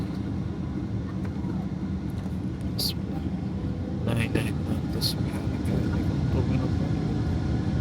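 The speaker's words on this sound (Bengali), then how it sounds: "ফুল থ্রটল দিয়ে দিছে, এখন ইনশাল্লাহ টেক অফ করবে।" Inside the cabin, an airliner's engines run at full throttle for takeoff, a loud, steady low roar filling the whole stretch, with a few brief rattles toward the end.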